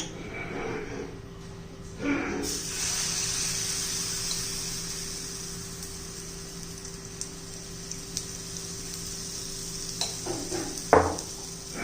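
Gram flour batter poured into a hot oiled pan, sizzling in a steady hissing fry that jumps up as it hits the pan, with a few close clinks of utensils and pan, no talking.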